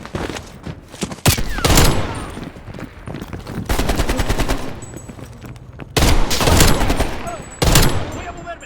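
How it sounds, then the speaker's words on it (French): Automatic gunfire in Call of Duty Black Ops Cold War, set in Vietnam: several loud, rapid machine-gun bursts close by, separated by short pauses, with a faint voice underneath. "Il nous tire dessus!"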